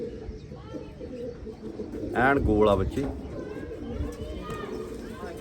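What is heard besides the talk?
pigeons cooing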